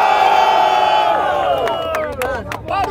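A loud crowd cheers and whoops together, a sustained roar of voices that breaks into scattered shouts and claps as it fades.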